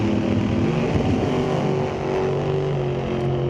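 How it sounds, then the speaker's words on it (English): Drag racing cars, a Pontiac GTO and a dragster, launch at an NHRA race at Mission Raceway Park, making a continuous loud engine roar that stays close and steady throughout. "Colton behind the wheel of the dragster"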